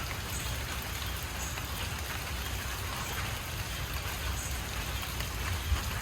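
Steady rain falls in a dense, even hiss, constant and moderately loud throughout with no voices.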